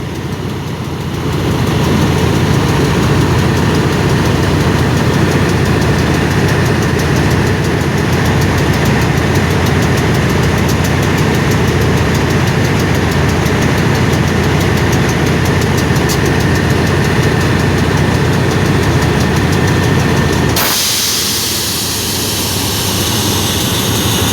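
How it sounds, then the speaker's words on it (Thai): A diesel locomotive engine idles at Salaya railway station, Thailand, with a steady low rumble and droning hum for about twenty seconds, then abruptly cuts to a quieter, different background. "เสียงเครื่องยนต์จะเหมือน GEK มากนะ"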